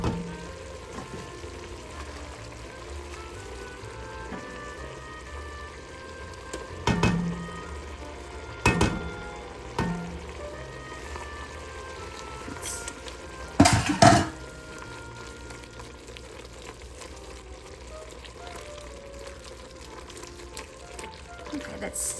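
Tomato paste being stirred into homemade beef stew in a pot, a faint soft scraping with a few sharper knocks of the utensil against the pot, while someone talks quietly.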